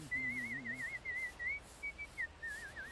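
A video game character whistles a wavering, warbling tune in several short phrases, fairly faint over a soft background hum.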